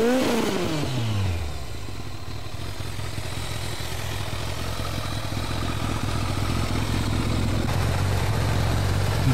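A Kawasaki ZZR1200 motorcycle runs without its exhaust baffle, its engine note dropping from a rev into a steady, deep, throaty idle that stays loud and close.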